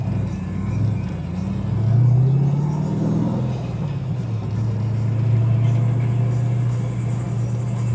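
A 480 hp V8-swapped Mazda Miata NB accelerates hard in first gear with a deep, throaty rumble. The rumble swells, rises in pitch, then settles into a sustained drone, heard from inside the car with no clear talking.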